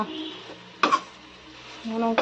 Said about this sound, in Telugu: కారం మొత్తం బాగా వంకాయలకు పట్టేంత వరకు మంచిగా ఫ్రై చేసుకోవాలి.